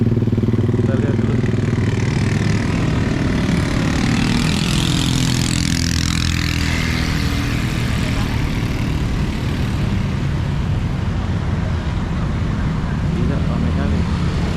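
Night street traffic in Pekanbaru, mostly motorbikes and cars, rumbles steadily and close by for the whole stretch, with a louder engine surge passing partway through and people talking over it.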